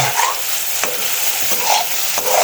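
Finely chopped garlic stirred with a spoon in a pan of brinjal bharta, a few scraping strokes over a soft steady sizzle, close and alone.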